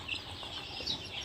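Sonali chicks on a poultry farm chirp in a soft, continuous high-pitched chorus, with several birds peeping together at moderate distance and no talking.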